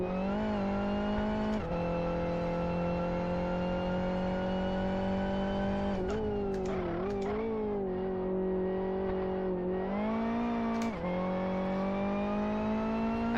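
Race cars in the Live For Speed racing simulator scream along a track, one engine's pitch holding then dipping and climbing through gear shifts while other cars pass, loud and continuous without talking.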